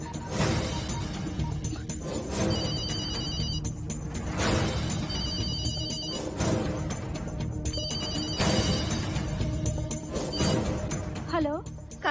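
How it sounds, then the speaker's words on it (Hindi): A mobile phone ringtone rings in repeated bursts over a steady background bed, with a whoosh near the end. "फोन ये लो।"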